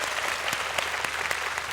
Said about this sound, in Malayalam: ഇഷ്ടപ്പെട്ടേ നല്ല കൈയടി കൊടുക്ക്.